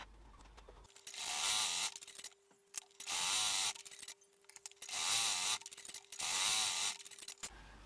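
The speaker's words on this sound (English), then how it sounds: "I'm going to zigzag neaten the ends of each of those pieces of webbing" A domestic sewing machine zigzag-stitches across the cut ends of webbing straps for a bag, four loud bursts of rapid rattling stitching separated by short pauses and clicks.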